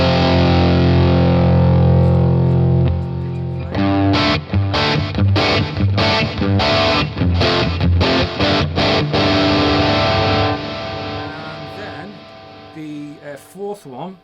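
Electric guitar runs through a Boss MS-3 blues driver overdrive patch, opening with a sustained crunchy chord, then loud choppy strummed chords and short riffs.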